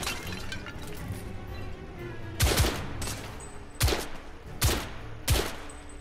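Enemy gunfire in The Order 1886, a loud continuous rattle of shots broken by four sharp, heavy bursts spaced about a second apart, close and unaccompanied by talk.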